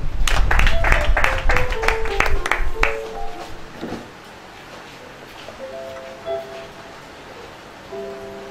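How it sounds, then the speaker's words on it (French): A church congregation claps and cheers for Jesus at a prayer service, loud dense applause that fades after a few seconds into a quieter room with a keyboard playing soft notes. "Acclame pour Jésus"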